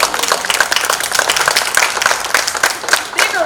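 Graduating adult education class of 2021 and guests applaud after the tassel turn, dense steady clapping filling the hall at close range with no break.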